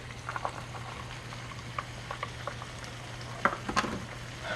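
A pot of coconut curry chicken simmers and bubbles softly on the stove, with faint scattered pops and a low steady hum beneath, no one talking.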